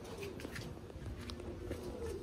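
Pigeons coo in soft, repeated low rolling calls, close by, with a steady background hiss and no talking.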